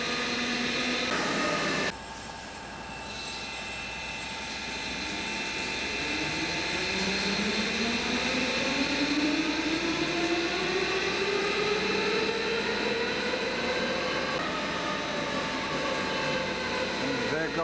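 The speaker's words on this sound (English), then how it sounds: "this is the sludge coming down with water." Sludge mixed with water pours out of a hydrothermal sludge treatment system, a steady loud rushing flow with a machine-like roar and rising tonal hum, continuous throughout with no pauses.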